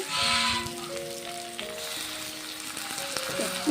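Washed chicken goes into a pan of sizzling chili masala, giving a brief burst of hissing frying at the start before settling into a quieter, steady sizzle.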